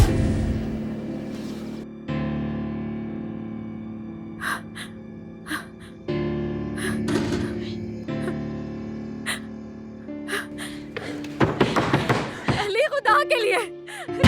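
Sharp knocks on a door sound in a drama scene, spaced irregularly in a series of distinct raps over a sustained tonal music bed, and grow busier toward the end.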